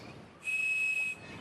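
A toy whistle from a cereal box, blown with one hole covered, sounds a single steady high-pitched tone for under a second, loud and close, starting and stopping abruptly over faint background hiss.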